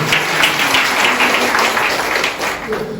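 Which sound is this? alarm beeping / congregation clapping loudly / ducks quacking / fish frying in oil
congregation clapping loudly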